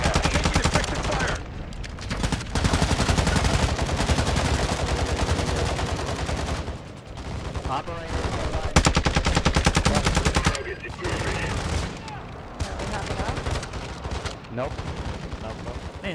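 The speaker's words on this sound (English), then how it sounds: "Taking effective fire!" Sustained gunfire from a Modern Warfare II DMZ firefight, loud bursts of automatic shooting packed densely across the whole stretch with brief lulls, a voice calling out over the shooting.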